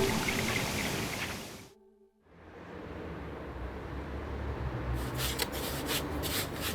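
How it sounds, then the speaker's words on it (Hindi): Large waterfall in the animated series Idaten Jump, a broad rushing roar that cuts out briefly, swells back in and keeps pouring steadily, with a few crackles near the end. "लेकिन वो तो काफी बड़ा झरना है।"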